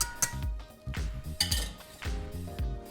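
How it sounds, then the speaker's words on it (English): A whisk mixing coconut rice in a metal pot, bright clinking taps and rattling knocks against the pot's sides in quick uneven bursts, close and clear with no talking. "So I just like to use my whisk and just kind of mix it all in there like that."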